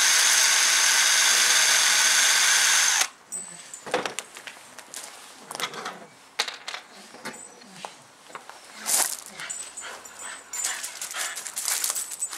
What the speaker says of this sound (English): The dog you see running about is my dog. She's a Staffordshire Bull Terrier